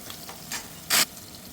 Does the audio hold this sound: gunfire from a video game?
no